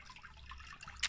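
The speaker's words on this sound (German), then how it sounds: "diese Pumpe, die hier unten arbeitet mit 3-4 Watt, mehr sind es bei mir nicht, was da das Plätschern bewirkt" A small 3–4 watt aquaponics pump in a converted manure pit keeps water splashing and trickling, a faint continuous babble of flowing water with one brief louder splash near the end.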